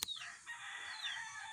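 A rooster crows once on a game fowl farm, a faint drawn-out call heard from some distance, with no talking.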